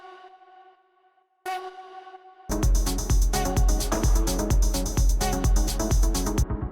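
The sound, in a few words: techno vocal stab sample with echo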